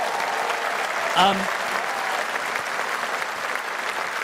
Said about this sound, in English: I just want to take 2 minutes and give this man a round of applause